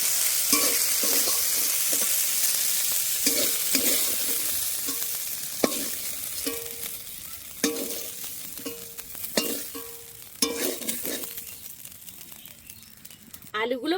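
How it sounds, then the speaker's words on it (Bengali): Prawns fry in hot oil with a steady, bright sizzle. A spatula stirs and scrapes in the pan in repeated strokes, and the hiss fades slightly toward the end. "চিংড়ি মাছটা ঠিক এইরকম করেই ভাজতে হবে"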